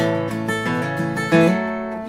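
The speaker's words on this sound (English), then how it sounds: "a bass note strum" Acoustic guitar played with a bass-note strum pattern: a low picked bass note followed by brushed chords, ringing steadily and close with no talking.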